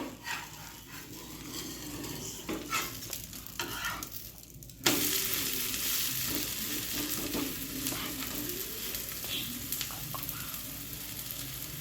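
A cucumber dosa cooks on a pan with a soft continuous sizzle, scraping and turning sounds, and a sudden louder hiss partway through that stays steady afterward.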